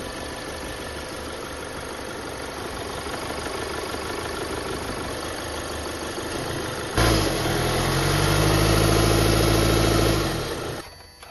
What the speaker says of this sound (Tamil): இன்ஜின் சவுண்ட் வந்து உங்களுக்கு வந்து ரொம்ப மைல்டாக தான் கிடைக்கும்.